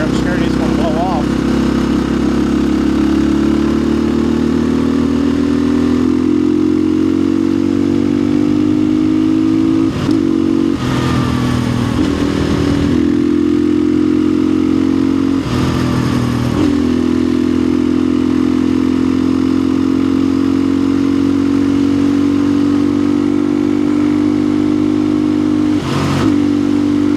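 A Chinese-made dual-sport dirt bike drones at roughly 85% throttle on a West Virginia trail, a loud, steady buzzing engine note with a few brief surges and clattering bursts as the revs shift, heard close up from the rider's microphone.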